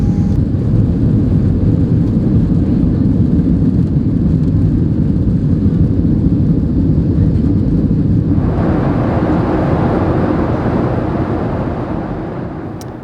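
Loud, steady airliner cabin roar fills a Georgian Airways/KLM flight to Amsterdam, a constant deep engine drone with broadband hiss that shifts brighter midway and slowly fades at the end, with no voices.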